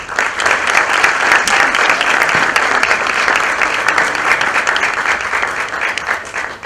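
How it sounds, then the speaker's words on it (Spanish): An audience at a data analytics talk breaks into loud, continuous applause that holds steady for several seconds before tapering slightly at the end. "Un fuerte aplauso"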